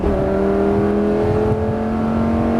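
A Lamborghini at full throttle on a racetrack, its engine a loud, steady high-pitched roar with strong sustained tones rising slightly, heard close up from inside the car.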